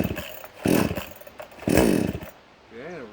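Solo Master 6220G chainsaw being started on choke, with two loud sputtering pops from the engine and a voice talking between and after them.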